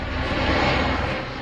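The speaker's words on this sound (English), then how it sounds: "Once the C-17 take off and begin their ascent, the tension inside the aircraft is palpable." The engines of a C-17 Globemaster III climbing after takeoff with paratroopers aboard produce a loud, steady, broadband roar that holds constant without a break.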